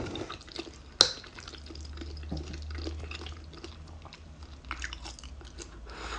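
Pork from a mung bean stew with pork feet being chewed close up, soft wet bites and smacking with one sharp click near the start, quiet and without talk.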